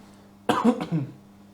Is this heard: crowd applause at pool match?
no